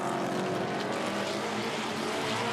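A V8 race car at Pukekohe circuit in 2019 roars steadily and far off, a dense, constant engine drone with no speech.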